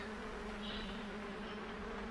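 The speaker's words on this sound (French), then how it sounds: "Il y a plein de mouches." Many flies buzz steadily outdoors in a continuous, droning hum that stays close and even throughout, with no voices over it.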